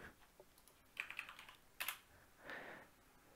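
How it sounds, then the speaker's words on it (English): Quiet keyboard typing: a short burst of light, quick key taps, then a couple of sharper clicks and a soft rustle, all faint and without voices. "you can just come in here and tap this, type whatever you wish"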